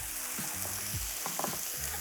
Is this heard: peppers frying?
yes